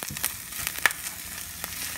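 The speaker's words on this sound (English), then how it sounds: "And you hear the onions here. They're starting to pop." Onions frying in oil in a pan, with a steady close sizzle and a few sharp pops or crackles breaking through, and no voices.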